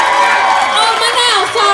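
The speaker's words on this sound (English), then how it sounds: "Let's give another round of applause for Justin Rocha." A comedy club audience cheers and whoops for a comedian, a dense crowd roar with shouted voices rising over it, loud and close for a brief moment.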